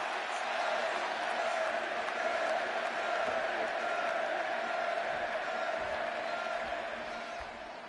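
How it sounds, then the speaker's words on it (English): An arena crowd in Chicago roars continuously in the WWE 2K26 wrestling video game during a CM Punk versus Eddie Guerrero match, a dense, sustained wash of cheering with no breaks. "And just listen to this crowd here in Chicago."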